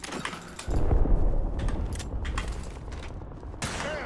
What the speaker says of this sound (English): Oh, okay, getting shot.